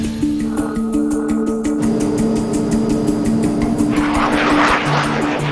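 A US military aircraft flies overhead with a steady, loud propeller-like engine drone and a strong low hum, building into a broader rushing roar as it passes, with no voices.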